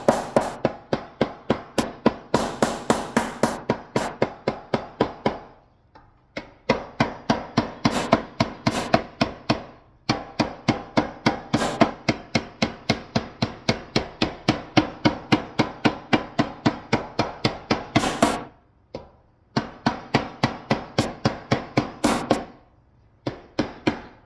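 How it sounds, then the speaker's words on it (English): A plastic mallet hammers a metal motorcycle fuel tank resting on a shot bag, in rapid, steady strikes that come in long bursts with short pauses between them, close and sharp, with no talk. "So just plastic mallets and your bag, and hammer a little bit."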